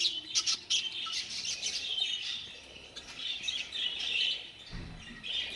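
Texas budgerigars in a breeding cage give lively, overlapping chirps and squawky tweets close by, with a brief wing flutter or cage rustle near the end and no talk.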